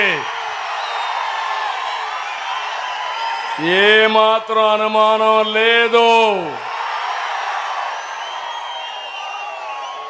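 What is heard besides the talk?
crowd cheering, whistling and clapping at a political rally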